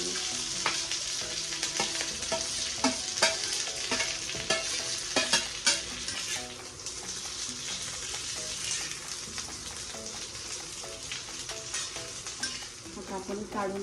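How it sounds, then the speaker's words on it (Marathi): Washed curry leaves fry and crackle in hot oil in a pan while being stirred, a steady close sizzle with frequent sharp pops and spoon scrapes. "कढीपत्ता मी धुवून चांगला पुसून घेतलेला आहे आणि मग नंतर तळून घ्यायचं।"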